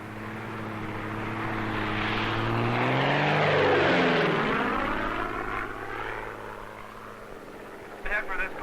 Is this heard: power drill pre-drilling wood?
no